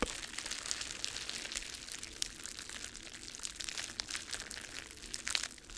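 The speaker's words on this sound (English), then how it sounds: "We find that the gentle crinkling sounds of the bubble wrap" Bubble wrap being gently crinkled and squeezed up close in a quiet room, with a steady stream of soft crackling and popping textures that continues for the whole stretch and swells slightly near the end.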